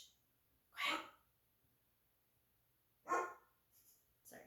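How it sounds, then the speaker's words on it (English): A pet dog barks at home in two sharp separate bursts a couple of seconds apart, loud against a quiet room, with a short hushing voice near the end. "That's my dog."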